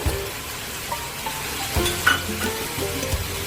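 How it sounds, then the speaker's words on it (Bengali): Turmeric paste and green chili sautéing in a pan for paneer bhurji, a steady soft sizzle with occasional stirring scrapes and clinks, close up and without talk. "একটা কুচো কুচো করে রাখা ক্যাপসিকাম দিয়ে ভালো করে আবার এটাকে কষবো।"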